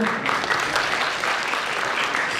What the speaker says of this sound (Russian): Дмитрий Ивлев, ваши аплодисменты.